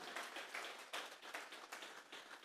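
A church congregation at a Sunday service claps together in a quick, rhythmic run of bursts, faint and distant, with no talk over it.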